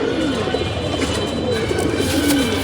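Pigeons in a home loft coo in low, throaty, overlapping calls, loud and close, running steadily for a few seconds over a busy background.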